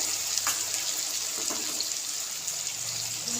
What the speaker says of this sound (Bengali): শেষে জলটা দিয়ে দিচ্ছি।